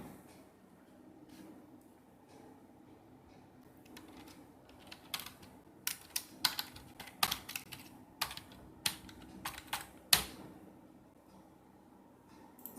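Computer keyboard typing comes in scattered bursts of sharp clicks, sparse at first and then denser and louder midway, close to the listener with no talking.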